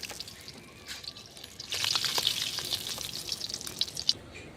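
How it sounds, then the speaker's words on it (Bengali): Freshwater fish, snakehead, bata and climbing perch, fry in oil in a pan. A soft crackle swells into a fuller hissing sizzle partway through, then eases, with a few light clicks close by and no talk. "মাছগুলি ভাজা হয়ে গেলে আমি আলুগুলি ভেজে নেবো"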